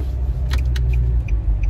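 Dense road traffic rolls past, a near steady low rumble of engines and tyres with brief faint clicks and a couple of higher tones over it, and no one speaking.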